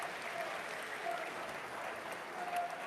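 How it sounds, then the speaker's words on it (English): Crowd applause at a pre-season friendly football match between Gateshead and Newcastle United as a player leaves the pitch, steady distant clapping from the stands, faint and even throughout. "To a round of applause"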